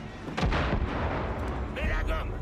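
Gunfire from the video game Far Cry 5: a couple of sharp, loud shots over a dense rumbling game backdrop, with brief voice sounds mixed in.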